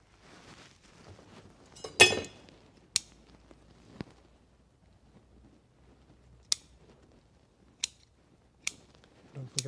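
Sharp, isolated snips of scissors trimming the tips of a small spruce bonsai, spaced a second or more apart and close, with a few soft rustles and brief speech early on.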